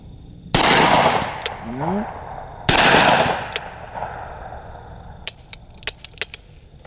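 Two loud Smith & Wesson 460 XVR magnum revolver gunshots, a couple of seconds apart, each booming and rolling off into echo, followed by a scatter of faint, sharp distant cracks.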